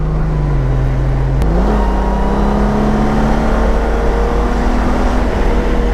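A 2018 Honda Goldwing 1800 DCT motorcycle engine whines steadily at full throttle, its pitch dipping then climbing as the throttle opens, loud and close with constant mechanical noise.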